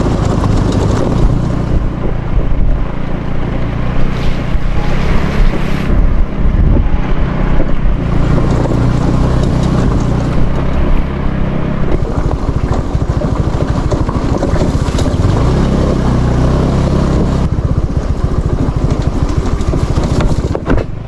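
A motorboat engine drones loudly and continuously for about twenty seconds, mixed with heavy wind buffeting the microphone and water noise, with no talking.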